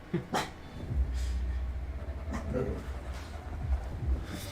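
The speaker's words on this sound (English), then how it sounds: "What are you barking at now, doggos?" Dogs react to a housemate arriving home with whimpers and short yips over low, steady background hum, fairly faint and distant, with no clear talk over them.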